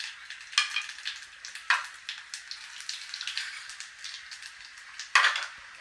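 Mustard seeds, cumin and moong dal fry in hot oil, a close, continuous crackle with sharp popping bursts as the seeds spit, heard alone without talk.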